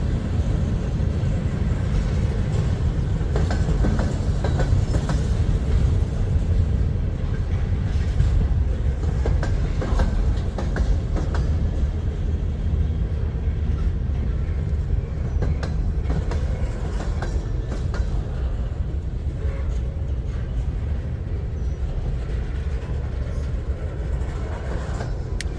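CSX freight train rolling past at Resaca, Georgia, a steady rumbling roar with faint clickety-clack of wagons on rails, continuous and fairly close as the train slows down.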